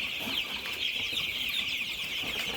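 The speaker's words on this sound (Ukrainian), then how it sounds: "Півники. Такі маленькі півники є." A brooder full of small young roosters and chicks peeps and clucks continuously, a dense high-pitched chorus of many birds close by with no talk over it.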